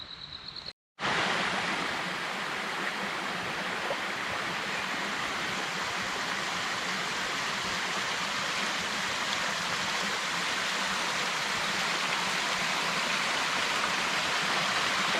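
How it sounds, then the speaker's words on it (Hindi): Spring water pours in a steady, loud, unbroken rush beside a hiking trail in the Margalla Hills near Islamabad, with no talk over it. "ये बोड़ी का चश्मा है।"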